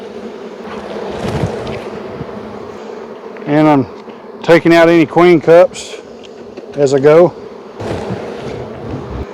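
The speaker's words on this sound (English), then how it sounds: "I'll shake the bees back down in their parent hive" Honey bees buzz steadily around an open hive as frames are shaken and handled, a dense low hum throughout with someone talking close by in bursts.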